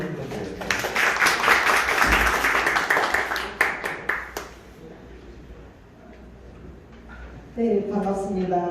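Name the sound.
audience applause welcoming a speaker to the stage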